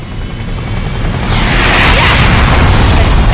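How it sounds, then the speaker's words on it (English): A gunship helicopter arriving in the video game Deus Ex: The Fall, a loud, dense roar of rotor and engine noise that swells and stays heavy and close, with a booming, whooshing rush. "Alex, you got a gunship inbound."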